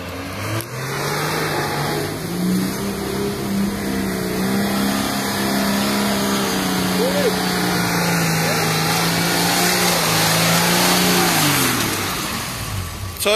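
A Toyota 60 series turbo diesel off-road in Wesburn, its engine revving up and holding a loud, strained drone for several seconds before easing off, with voices faintly in the background.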